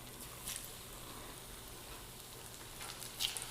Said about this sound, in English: now you hear the sizzle, so now you know the oil's ready to go